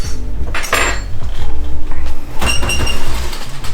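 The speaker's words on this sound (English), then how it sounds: "I'm just gonna move everything around, mix all the juices and everything in here" Cajun-style shrimp boil mixed in a pot with its juices: loud clattering and knocking of a utensil against metal, with clanks and scraping over a low rumble, close and without speech.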